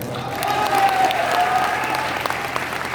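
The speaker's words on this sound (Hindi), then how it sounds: "मत बजाओ ताली मत" Audience applause at a Hindi motivational speech by a Crown president star, a dense steady clapping that fills the whole stretch, loud and close, with a faint murmur of voices underneath.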